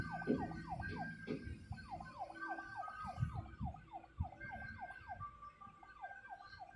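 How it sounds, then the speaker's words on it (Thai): A rapid warbling electronic siren from a small toy police car in a video game repeats over and over, with clattering and rustling noises underneath. "มีรถตำรวจเล็กๆเข้ามาด้วยเหรอ ใครเป็นคนทำรถตำรวจอะ่ะ"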